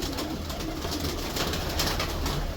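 A female Lakhi pigeon coos softly in a close, steady run of low murmuring calls, with no voices over it.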